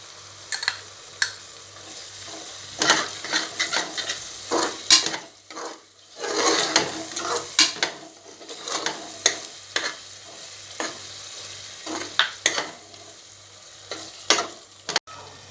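Yogurt being stirred into frying masala for egg biryani produces a bubbling sizzle with frequent scraping and clinking of a spoon against the pan in irregular bursts, close and fairly loud.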